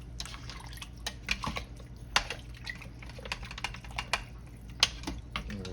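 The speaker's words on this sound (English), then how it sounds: "let me put some more liquid in here. I want plenty of liquid." Liquid poured into an Instant Pot for oxtail soup with tomato paste, a steady close trickle with scattered small drips and splashes, no talking.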